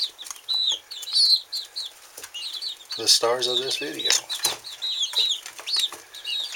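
Homegrown young chickens, seven cockerels and five pullets, chirping and clucking close by, with a sudden burst of wing flapping and squawking midway; someone speaks briefly over them.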